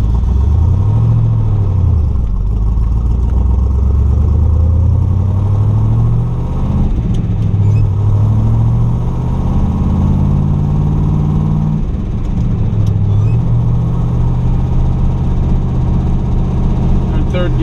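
A 1965 Chevrolet Corvette's engine rises and falls steadily as it works up through the gears while driving, a loud, continuous drone with clear pitch climbs and drops at each shift.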